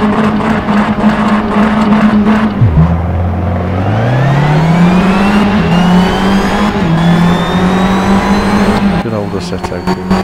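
Racing car engine in Assetto Corsa on Xbox One X, loud and continuous, revving and dipping sharply then climbing through rising gear pitches, with a steady high whine throughout.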